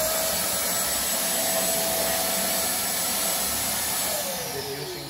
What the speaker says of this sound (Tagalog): Stanley wet and dry vacuum.